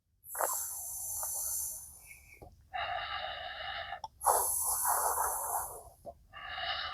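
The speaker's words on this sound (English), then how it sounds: "cooling pranayamas, like breathing through the mouth and exhaling through the nose" Shitali cooling pranayama breathing, drawing air in through the mouth and out through the nose: close, loud hissing inhales alternate with softer, breathy exhales in a slow, regular cycle of about three breaths.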